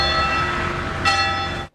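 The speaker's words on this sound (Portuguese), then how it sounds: "O badalar dos sinos na igreja matriz Nossa Senhora da Conceição, no centro de Guarapari" Church bells of the parish church Nossa Senhora da Conceição in central Guarapari ring in a dense, sustained wash of metallic tones, loud and close, with one brighter strike near the end.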